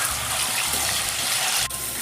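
Water drains and pours off freshly washed mushrooms in a kitchen, a steady close gushing splash lasting about two seconds with no talk.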